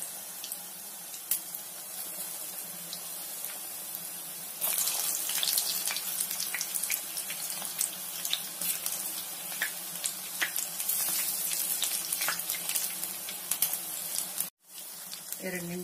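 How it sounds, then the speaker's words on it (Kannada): Cauliflower fritters coated in gram flour batter frying in hot oil, giving a steady low hiss and crackle that grows louder partway through, with a brief dropout near the end. "ಎಣ್ಣೆ ಕಾಯ್ದಿದೆ, ಈಗ ಹೂಕೋಸ್ನ ಒಂದೊಂದೇ"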